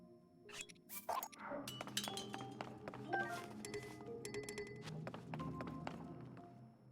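A broken weapon clatters to the ground in The Legend of Zelda: Tears of the Kingdom, a quiet series of clinks and thunks mixed with light footsteps and soft game ambience.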